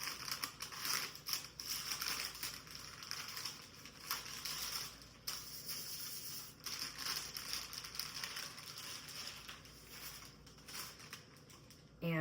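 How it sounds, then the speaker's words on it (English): Paper being peeled off a chocolate butter block while laminating croissant dough, a quiet, continuous close crinkling and crackling with soft irregular rustles throughout. "I unpeel the chocolate paper on the butter block"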